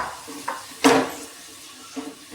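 Sliced medium onions tossed into a hot pan make one brief, bright clatter-sizzle burst, with a few faint clinks of utensils around it.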